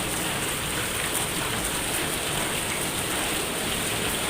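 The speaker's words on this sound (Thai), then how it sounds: "ตอนนี้ฝนกระสาดครับ" Heavy rain pours and splashes across an outdoor table, a dense, steady hiss with no letup, loud and close for the whole stretch, no voices.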